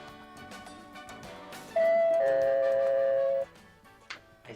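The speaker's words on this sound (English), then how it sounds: "I think that sounds like Chi-Chi's ring" A doorbell rings indoors in a quiet home, sounding a sustained two-tone chime that holds for under two seconds over faint room background, with a small click near the end.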